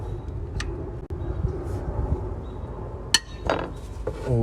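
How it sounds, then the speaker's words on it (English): Breaker bar loosening an alternator bolt on a 2005 Dodge Ram 1500, with low metallic clunks and one sharp crack as the bolt breaks free, followed by faint clinks in a workshop setting. "Breaker bar, break it loose."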